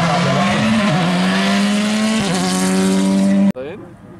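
A Ford Fiesta R5 rally car drives hard on a stage at Rallye Deutschland 2019, its engine loud and close with rising revs, a brief shift midway and an abrupt cut as it passes.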